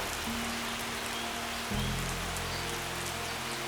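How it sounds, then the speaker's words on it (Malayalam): Windy rain pours onto a bridge above a check dam at Cheramangalam in Palakkad, a steady close hiss with a low rumble that deepens midway through. "നല്ല കാറ്റും മഴയുമാണ്"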